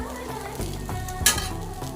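Carrot and onion punugulu fritters fry in hot oil with a steady, close sizzle and crackle, broken by a sharp pop partway through.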